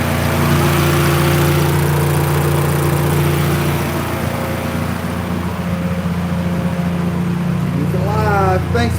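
A car engine fired up for the first time after transmission work and fresh Raceworks fuel lines and a new high-pressure fuel pump, running loud and close with a steady rumbling drone throughout, a brief voice rising near the end.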